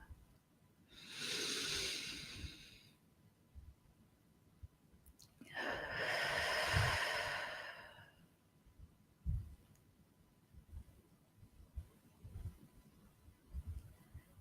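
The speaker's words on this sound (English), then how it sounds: "Big, deep breath in, really filling up your lungs" A slow, deep breath drawn in, held, then released in a long soft exhale during a guided breathing session, followed by faint rustles and small clicks in a quiet room.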